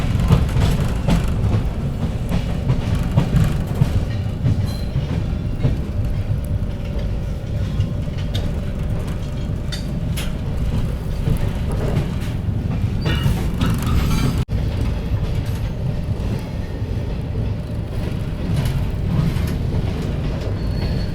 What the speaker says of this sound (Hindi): बगल से क्रॉस हो रही है अमृतसर सहरसा गरीब रथ एक्सप्रेस, इंडिया की पहली गरीब रथ एक्सप्रेस।